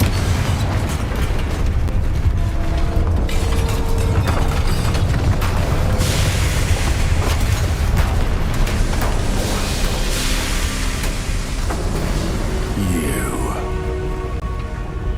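Fire and blasting spells Confringo and Bombarda detonate in Hogwarts Legacy, a dense barrage of booms and crackling bursts over a constant rumbling din, with a sharper burst near the end.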